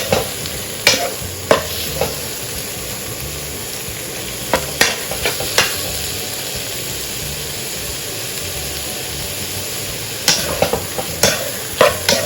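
Shrimp stir-fried with holy basil in a pan: a loud, steady sizzle broken by clusters of sharp spatula scrapes and clanks. No one speaks.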